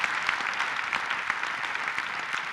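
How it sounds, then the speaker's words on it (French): Audience applause for a performer and his team at a French-language show, a steady dense patter of many hands clapping at moderate level throughout, with no talking over it. "Beaucoup d'applaudissements pour eux."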